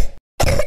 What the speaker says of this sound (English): Hey, don't cough on me like that.